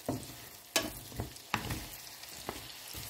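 Carrot, zucchini and onion fry in olive oil and butter in a pan, a low steady sizzle broken by several sharp scraping stirs and clinks spaced irregularly, close and fairly quiet.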